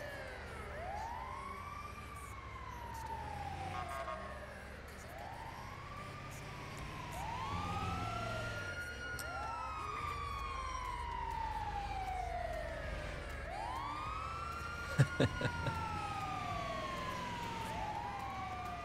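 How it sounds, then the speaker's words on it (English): An ambulance siren in a video game wails in repeated rising and falling sweeps, loud and close over a low vehicle rumble, with a brief cluster of sharp knocks near the end. "Let's see what emergency this local ambulance is going to treat."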